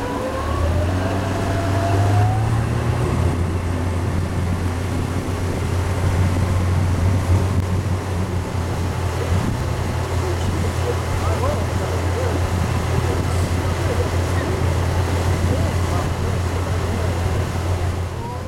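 A motor raft runs on the Colorado River with a steady, loud low engine drone and rushing water throughout, and a voice talks over it in places.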